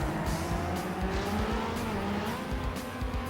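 A custom race car in TrackMania Sunrise drives at speed with a loud, steady engine drone and rushing road noise, plus faint tire squeals throughout.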